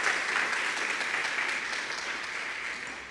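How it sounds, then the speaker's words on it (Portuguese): A church congregation applauding loudly and steadily, a dense wash of many hands clapping at once that eases slightly toward the end. "Se é para o Senhor, pode aplaudir mais forte."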